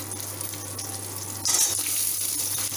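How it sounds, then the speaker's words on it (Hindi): Pointed gourd (parwal) fries in a pan of tempered oil with asafoetida and chili, a steady close sizzle that grows louder and crackles more sharply midway, with no voices. "अब इसमें परवल को थोड़ा फ्राई कर लूँगी"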